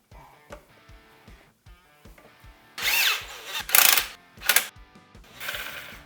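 A power tool drives a bolt on a 2024 Beta 300 RR Race Edition dirt bike during a carbon fiber parts install, with quiet clicks and handling noises, then several short, loud whirring bursts.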